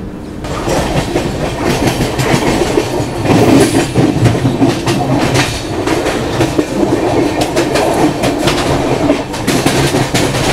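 A Rajdhani Express train runs out of Kalyan Junction toward Mumbai CSMT, heard from inside an AC first-class carriage: a loud, steady rumble with rhythmic clickety-clack of the wheels over rail joints throughout, with no talking.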